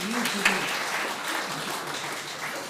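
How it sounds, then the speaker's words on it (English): Steady, fairly loud applause from an audience at a hospital talk, a continuous wash of clapping lasting a few seconds with faint voices mixed in. "Can we have a big round of applause for him?"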